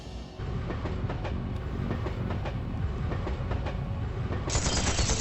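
A train rolls along the rails in the video game Trails to Azure, with a steady rumbling clickety-clack that runs unbroken from start to end and carries no speech.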